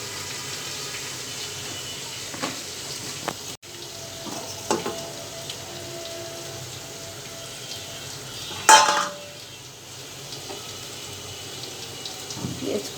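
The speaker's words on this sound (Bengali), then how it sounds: "পেঁয়াজ কুচি দিয়ে একটু ভেজে নেব।" Chopped onions fry in a pan for beef tehari, a low continuous sizzle with occasional stirring scrapes and a louder clatter of utensils partway through.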